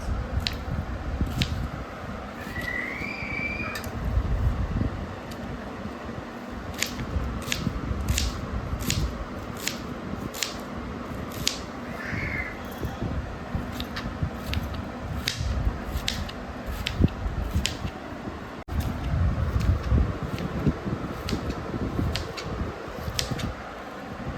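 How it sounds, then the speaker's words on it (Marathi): Onions being chopped with a knife on a board for a Maharashtrian chicken and mutton dish, a steady series of crisp close cutting clicks repeating at a regular pace over a constant low background hum. "सर्वात प्रथम आपण कांदा कापून घेऊ"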